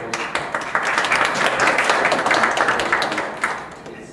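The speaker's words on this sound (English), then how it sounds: "please give a round of applause" An audience at a lecture on European social policy gives a speaker a warm round of clapping, a dense, fairly close patter of many hands that holds for about four seconds.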